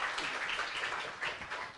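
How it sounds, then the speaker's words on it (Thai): Audience applause at a Thai panel-discussion stage welcoming the host, a dense, even patter of many hands clapping throughout. "ขอปรบมือต้อนรับนะครับผู้ดำเนินรายการคุณธเนศม่วงทองครับ"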